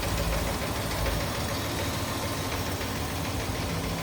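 A 1954 Packard Caribbean convertible's inline-eight L-head engine idles with an even, chugging rumble, close and loud, running steadily without any talk.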